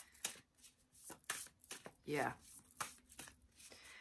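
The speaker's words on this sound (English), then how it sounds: "They want me to keep on shuffling." Tarot cards being shuffled by hand, a run of quick crisp riffling bursts up close, with a brief spoken word in between.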